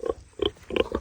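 A pig digging up a tree stump near a mud wallow grunts in three or four short, rough bursts, close and fairly loud, with quiet gaps between them.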